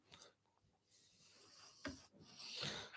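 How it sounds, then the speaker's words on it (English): Woodworking chisel pushed forward along a scored knife line in wood, producing faint scraping and rasping strokes, a few short rubs and then longer shaving passes, quiet and close with no talk. "So with the chisel, push it forward"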